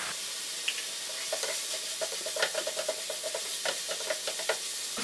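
Spiced minced meat with vinegar frying in a pan, a steady bright sizzle broken by bursts of scraping and stirring, close and continuous with no talking.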